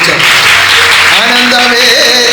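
An audience claps hands at a Malayalam devotional gathering, a loud, dense and continuous wash of clapping with a voice speaking or chanting over it.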